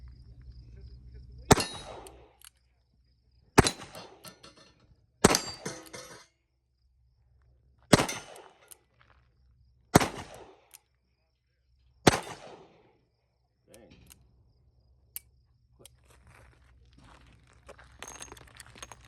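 Single-action shots from a Smith & Wesson 65-5 .357 Magnum revolver at a range: six loud, sharp reports spaced about two to three seconds apart, each with a short ringing decay, followed by quieter handling noises.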